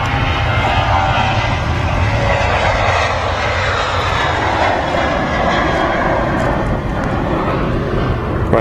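A Virgin Atlantic Airbus A350-1000 at Manchester Airport fills the air with a loud, steady engine roar during pushback, a broad continuous rumble with no break across the whole stretch.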